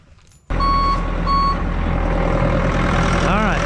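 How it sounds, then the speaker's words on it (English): A machine's backup alarm sounds loud, steady beeps over a running, idling engine while its enable-disable switch is tested. "switch in that location, beeper's working"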